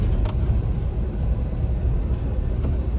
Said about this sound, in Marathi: फर्स्ट गिअरवर घेऊन चढत